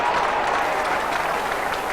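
A large crowd at a 1995 Swans versus Essendon Australian football match applauds steadily, a dense wash of clapping and cheering from many people throughout.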